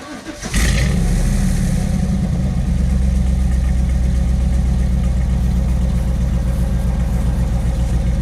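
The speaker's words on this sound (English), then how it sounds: "I'm gonna go in there and start the car now." A 1996 Chevrolet Camaro Z28 V8 with bad ignition coils cranks briefly and fires up, then settles into a loud, steady, rumbling idle with a deep throb that carries on unbroken.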